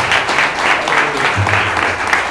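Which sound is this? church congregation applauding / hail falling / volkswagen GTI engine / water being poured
church congregation applauding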